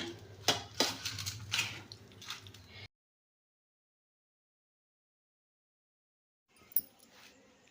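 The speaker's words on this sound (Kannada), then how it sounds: "ಈಗ ನಮ್ಮ ಯಜಮಾನ್ರಿಗೆ ಊಟಕ್ಕೆ ಪ್ಲೇಟ್ ಹಚ್ತಾ ಇದ್ದೀನಿ" Plates being set out for a meal in a home kitchen, a close run of clinks, clatters and soft knocks for a few seconds, then silence, then a brief light clatter near the end.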